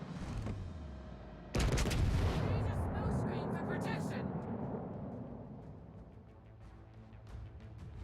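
Battleship gun salvos in World of Warships Legends: a sudden heavy boom bursts in and rolls out into a long, fading rumble, with a faint earlier thump, heard beneath a talking voice.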